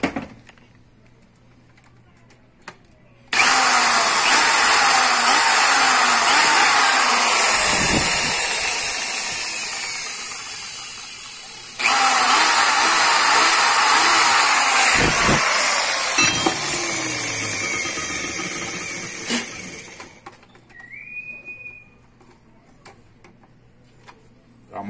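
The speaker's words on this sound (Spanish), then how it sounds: "Vamos a colocarle estos dos tornillitos." Power screwdriver driving small screws into a home sound system, two loud whirring bursts with a steady buzzing tone, the second burst slightly shorter, followed by faint handling clicks.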